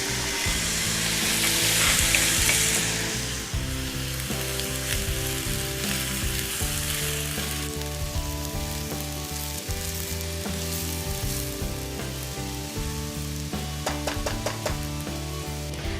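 Cashews sizzling in a pan for quinoa pilaf: a steady hissing fry lasting throughout, loudest at the start, with occasional stirring scrapes and a low background hum.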